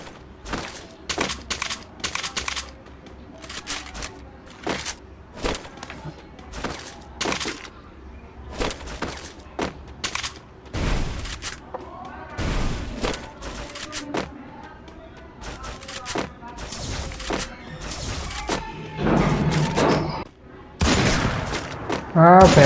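Gunfire from the Free Fire battle royale game, including sniper rifle shots: repeated sharp cracks and bursts spaced irregularly, with rapid fusillades and booms mixed in, loud and near, while someone talks excitedly over them.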